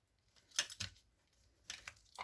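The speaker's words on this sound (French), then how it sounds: "Je coupe les queues du nœud." Scissors snip through the tails of a small ribbon bow on a vintage floral handmade card, a few short crisp cuts and crinkles close by in a quiet room.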